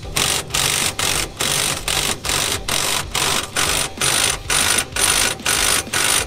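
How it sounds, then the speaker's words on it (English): An impact wrench hammers on the differential of a Reliant in a workshop, loud and close, in about a dozen rapid rattling bursts separated by short gaps, with no talk. "you shouldn't use an impact wrench on a differential"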